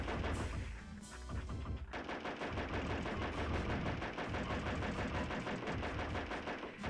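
Rapid bursts of gunfire in the PS1 game Lone Soldier, dense repeated shots firing almost continuously, loud and close, with a brief lull before the shooting resumes.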